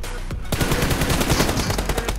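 Rapid automatic gunfire in a team deathmatch video game, loud and dense bursts of shots following one another without pause throughout, no talking.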